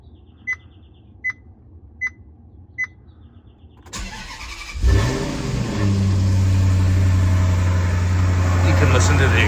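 Four short beeps, then a 2012 Maserati Quattroporte S engine cranks and fires up from cold, revving briefly before settling into a steady, loud idle close by.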